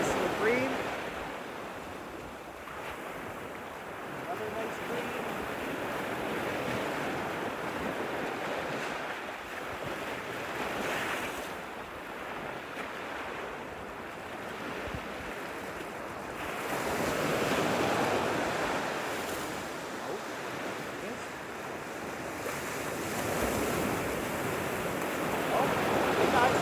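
Waves wash ashore on a Cape Breton beach with wind buffeting the microphone, a broad, rolling roar that swells and eases in long surges, fairly faint and continuous.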